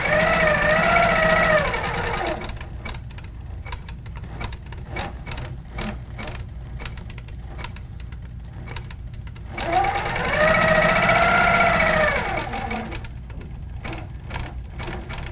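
A quilting sewing machine stitches along a ruler in rapid, rhythmic bursts, with whirring motor passages at the start and middle separating steady needle-tapping runs, close and clear with no voices.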